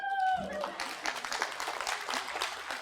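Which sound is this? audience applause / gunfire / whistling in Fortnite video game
audience applause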